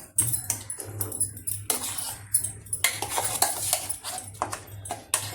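Ground chickpea lentil paste stirred and fried in a pan, with repeated clinks and scrapes of a spoon against metal in an uneven rhythm, close and fairly loud over a faint low hum.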